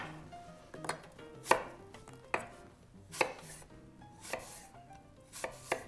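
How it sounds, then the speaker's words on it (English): A knife cuts thin apple slices for a celeriac and apple salad, about seven crisp chopping strikes at an uneven pace, close and fairly quiet with no talking. "We're gonna make our apple slices."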